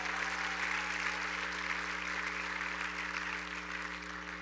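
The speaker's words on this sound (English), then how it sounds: "let's give her a round of applause" A chapel audience at an honors ceremony gives a steady round of applause, dense and even throughout with a constant low hum beneath it.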